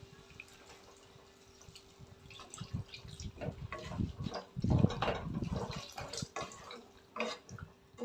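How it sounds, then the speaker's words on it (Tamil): Water added to bottle gourd kootu in a pan, a gurgling, dripping pour that swells to its loudest midway and then tapers into scattered drips and splashes, close and with no talk. "இப்போ இதுக்கு தேவையான அளவு தண்ணி சேர்த்துக்குவோம்."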